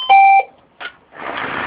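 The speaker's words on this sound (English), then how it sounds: "Another interesting feature we have on the front door, a door chime." Alarm system door chime on a front door, one loud electronic two-tone beep, then a short quieter tone and a soft hiss, all close and clear with no talking.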